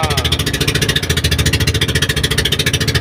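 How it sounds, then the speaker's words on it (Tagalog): A fishing boat's engine runs close by with a loud, rapid, even chugging beat at idle. "Papandar lang ako ng aking makina."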